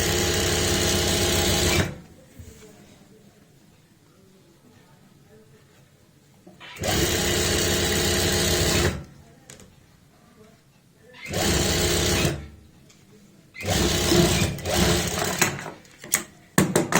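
A sewing machine stitches pant fabric in three loud, steady whirring bursts, each lasting a few seconds, separated by quiet gaps filled with faint handling noise.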